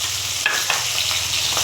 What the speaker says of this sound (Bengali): তেল গরম হয়ে গেছে, আমি মাছ দিয়ে দিচ্ছি তেলে।